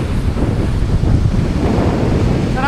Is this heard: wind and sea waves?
yes